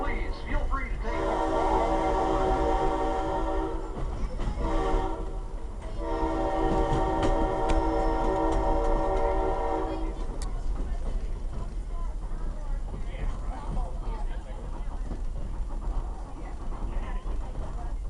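A museum passenger train at the NC Transportation Museum rolls along the track, a steady rumble of wheels under a long, loud horn blast with a brief break, and voices talking over the ride.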